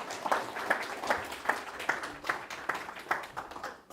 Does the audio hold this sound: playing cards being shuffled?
no